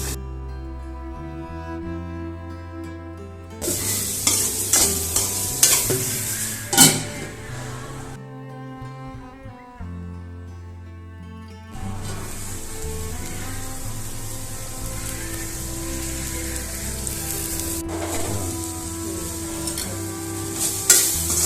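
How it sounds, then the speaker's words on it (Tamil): Ivy gourd (kovakkai) sautéing in a pan until golden, with bursts of bright crackling sizzle and occasional spatula scrapes, broken by a quieter pause before the frying noise returns steadily. "நல்ல ஒரு கோல்டன் கலரில் வர வரைக்கும் நல்லா வதக்கி விடணும்"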